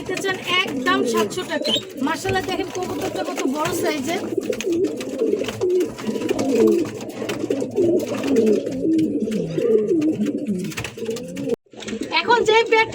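Pigeons, including a black one, coo and warble in a steady low murmur close by, while someone talks over them almost the whole time.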